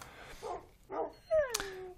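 Dogs in a blocky survival video game, one voice giving a rising whine that slides into a drawn-out tone, preceded by a couple of short muffled yips; close and moderately loud, with no talk.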